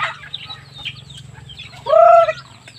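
Native chickens clucking nearby in Bohol, scattered short clucks followed by a louder drawn-out call, with a low hum underneath.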